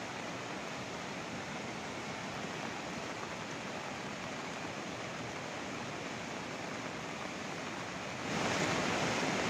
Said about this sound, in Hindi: रुद्रप्रयाग में इसका बहाव देखिए आप, तेज बहाव